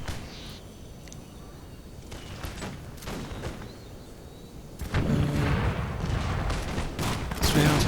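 Musket and cannon fire crackles across a battle in Empire Total War, scattered shots and volleys popping irregularly before a heavier, louder burst of fusillade swells near the end.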